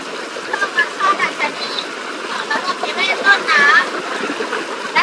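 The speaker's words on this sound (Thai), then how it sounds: "ตอนนี้พวกเราอยู่ที่น้ำตกลำเกียว" Water rushes and splashes steadily nearby at Lam Kiao waterfall in Khiri Mat, Sukhothai, Thailand, a broad flowing hiss with small spattering bursts; a voice speaks faintly over it.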